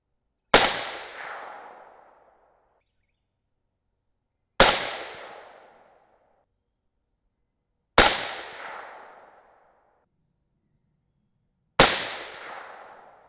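Four suppressed 6.5 Grendel rifle shots firing 140gr Hornady Match BTHP loads, each a sharp, loud crack with a short decaying tail, spaced roughly three to four seconds apart with silence between.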